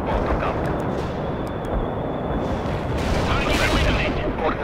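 A heavy artillery strike pounds away in the war video game World in Conflict, a dense, loud, continuous barrage of booms and rumbling blasts with a few sharp higher crackles.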